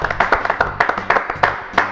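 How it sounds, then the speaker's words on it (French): Live French TV studio audience applauding a guest named Ludo: quick, close handclaps in repeated clustered bursts, moderately loud and continuous. "Applaudissez Ludo"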